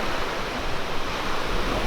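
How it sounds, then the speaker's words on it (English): Strong ocean waves break on Hollywood Beach, a loud, close and continuous rush of surf that fills the scene with no pauses and no voices. "these waves are pretty strong"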